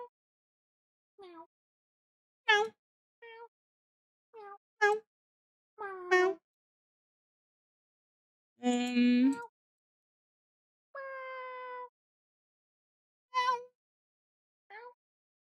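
A person imitates a cat with a series of short, separate meows, some drawn out and wavering, spaced by silent gaps over about fifteen seconds, heard close and clear.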